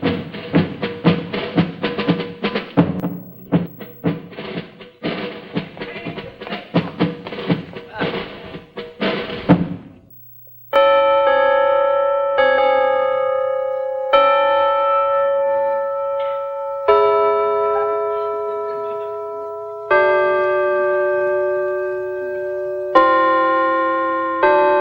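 Bells ring out in a studio setting on a television music show, a series of sustained, resonant strikes that decay slowly, following a stretch of busier percussive sound, loud and alone.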